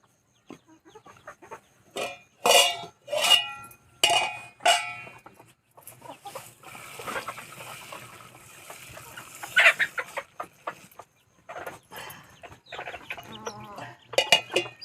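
Chickens cluck in short, choppy bursts, close by and fairly loud, with a busy stretch of overlapping clucks and calls and brief quiet gaps between.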